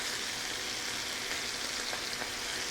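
Filet mignon steaks searing in a pan with garlic give a steady, even hiss and crackle of frying, faint and constant throughout with no talking.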